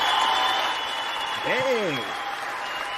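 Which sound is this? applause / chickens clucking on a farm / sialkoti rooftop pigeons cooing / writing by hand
applause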